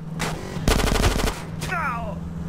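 Rapid bursts of assault rifle fire in GTA: San Andreas, a dense rattling volley near the middle, with game music and other sounds around it.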